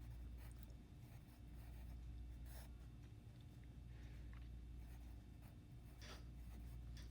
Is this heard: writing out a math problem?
yes